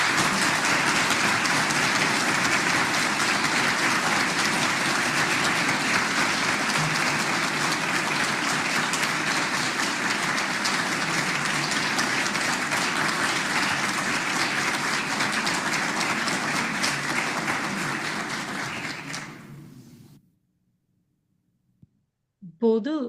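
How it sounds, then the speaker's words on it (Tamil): An audience at a Tamil meditation talk about a Kailash pilgrimage claps in sustained, dense applause for about twenty seconds, then fades out into silence. "கைலாசனுக்கு கைலநிலையானுக்குத்தான் இந்த கைதட்டு."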